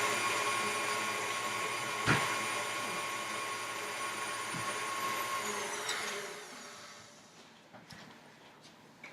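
Crepe batter being mixed with an electric mixer or blender, a steady motor whir running loud and continuous for most of the clip, with a sharp knock near the start and the motor easing off toward the end.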